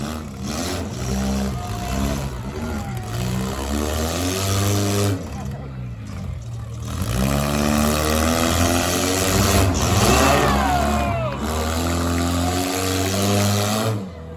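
A demolition derby car's engine at a county fair idles and revs in rough surges, loud and close, with an announcer talking over it and a brief lull midway.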